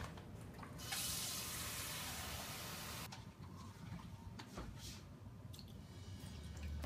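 Water poured into a pot of jambalaya, a close, steady gush of liquid that cuts off partway, followed by quieter sloshing and a few small taps, with no talking.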